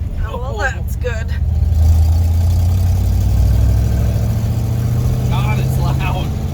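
A rough, loud 1978 Ford pickup truck engine idles with a deep, steady rumble throughout, swelling slightly, while people talk briefly near the start and end.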